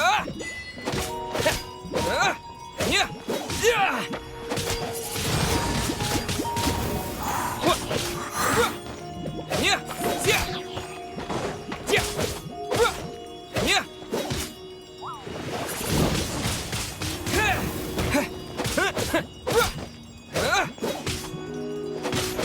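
Wind Blade skill attack in Genshin Impact: a dense run of swooshing hits, thunks and sharp whacks, loud and close, with effects stacking on each other throughout and surging again near the end.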